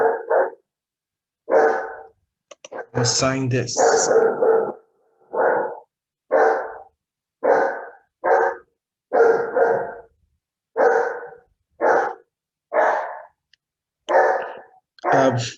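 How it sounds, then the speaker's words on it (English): A dog barks repeatedly in short, loud bursts, about a dozen barks spaced by brief silences, with one longer growly run of barking, and a person briefly speaks once. "pardon the dog. I think he's angry at someone."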